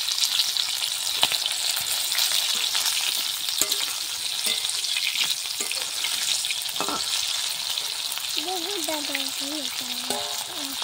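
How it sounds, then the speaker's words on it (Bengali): Chicken crackles and sizzles gently in oil on low heat, a steady close frying hiss with scattered pops and a brief tonal chirp near the end. "হালকা আঁচে ভাজবো। দেখো কেএফসি স্টাইলের পুরো চিকেন ফ্রাই।"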